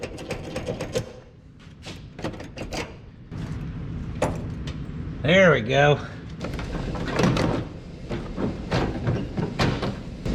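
Clips and trim pieces of a 1976 GMC truck door panel being pried and pulled off, a string of sharp clicks, pops and scraping knocks close by, with someone talking briefly over the work.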